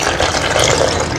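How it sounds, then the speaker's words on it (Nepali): Water poured slowly into mixed flour, sugar and milk for pizza dough makes a steady, close, soft splashing trickle that runs unbroken for just over a second. "पिठोहरुमा चाहिँ सबै मिक्स गरेपछि पानी बिस्तारै हाल्दै पिठो मुस्न गइरहेको छु"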